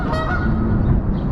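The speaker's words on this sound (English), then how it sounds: "Geese over there trying to yell at me." Geese honk beside the Chicago River at the Chinatown water taxi stop, a few nasal calls over steady water and city noise, moderately close.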